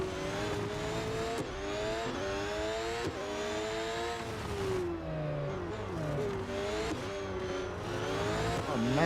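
Race cars in the mobile racing game Real Racing 3 drone steadily throughout, with rising and falling revving engine tones as several cars run close together, loud and continuous.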